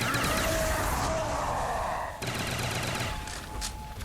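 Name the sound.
gunfire from Black Ops Zombies video game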